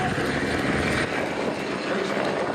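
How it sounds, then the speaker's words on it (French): A helicopter from Air Base 115 in Orange passes over an air base open day, its rotor and engine noise loud and continuous throughout with crowd sounds underneath. "on peut lever les mains pour saluer l'équipage de cet hélicoptère qui vient de la base aérienne 115 d'Orange"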